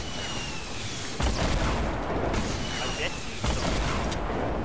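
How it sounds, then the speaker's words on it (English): Gunfire aimed at the player in a video game, two heavy broadband shots about two seconds apart standing out from a constant dense battle noise bed. "Wait, did someone shoot at me?"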